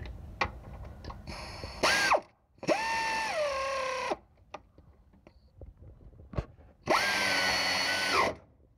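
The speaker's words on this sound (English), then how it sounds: "So now I'm going to use my air ratchet, make sure I'm going right direction." An air ratchet drives motor mount bolts during a motor and transaxle mount replacement, with loud whirring bursts of about one to one and a half seconds each, separated by clicks and short pauses.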